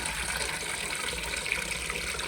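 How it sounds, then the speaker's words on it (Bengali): Tap water runs into a bowl at a Malaysian palm plantation labour camp, a steady, close gushing splash that holds without a break, with no talk. "হাফ বাটি জল নিব এখন"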